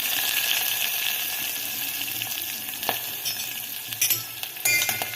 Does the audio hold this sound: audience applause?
no